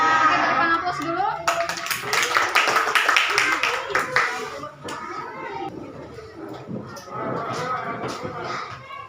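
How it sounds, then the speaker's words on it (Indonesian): Classroom applause from a group of students, a burst of clapping with children's voices and chatter mixed in, louder in the middle and then giving way to talk. "berikan aplaus dulu"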